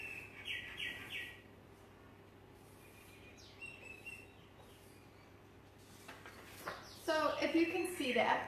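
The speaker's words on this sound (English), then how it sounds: "Birdies are nice and chirpy today." Birds chirp outdoors in scattered bursts, fairly faint against steady background hum, with a denser, louder flurry of tweets near the end.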